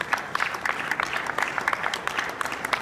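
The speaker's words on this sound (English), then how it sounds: "Can I get a round of applause for that?" An audience at a transit awareness day event in Albany claps in a burst of applause, a dense patter of hands that stays lively and fairly close throughout.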